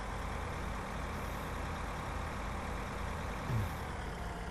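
Tractor engine in Farming Simulator 2013 droning steadily at a low, constant throttle, a quiet continuous heavy-engine hum with no clear rise in pitch.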